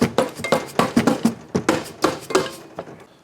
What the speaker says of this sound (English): Let's go ahead and pop the oil pan off.